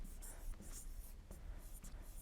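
An equation being written out during a coordinate geometry lesson on the equation of a circle, heard as a continuous close, quiet scratching of strokes against a writing surface with small bursts of emphasis.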